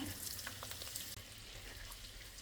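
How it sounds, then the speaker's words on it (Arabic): Butter melting in hot oil in a pan gives a continuous soft, dense sizzle with faint crackles, steady and fairly quiet throughout. "بعد ما سخن الزيت نحط ملعقة كبيرة من الزبدة"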